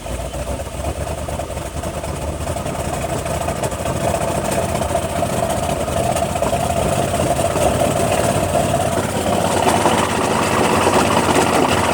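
The engine of a 1977 Mercedes-Benz 450SEL 6.9 runs continuously up close. Its loud, rough drone swells a little as the gas is pressed, then holds steady without any talking.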